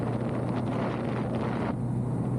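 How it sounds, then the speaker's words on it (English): Heavy wind buffeting while riding a motorcycle at night on the freeway, a loud constant roar with a low droning rumble under it and no talking. "now I'm just cruising along the freeway."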